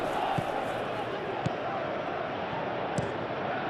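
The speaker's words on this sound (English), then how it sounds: "the crowd are reacting to that now" Football stadium crowd in a Chelsea vs Manchester City Premier League simulation game, a steady roaring murmur with a few sharp spikes, heard under commentary.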